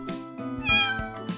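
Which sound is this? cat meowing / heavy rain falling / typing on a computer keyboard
cat meowing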